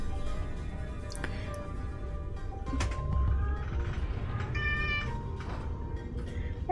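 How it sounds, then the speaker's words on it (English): A cat in the game Limbus Company meows several times over a steady background hum, with short, clear calls spread across the passage. "The kitty is here again."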